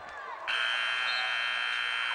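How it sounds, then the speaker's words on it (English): A basketball shot clock buzzer sounds at a women's college game, a loud, steady electronic tone that cuts in sharply after a brief moment and holds without a break over crowd noise. "the shot clock buzzer that is"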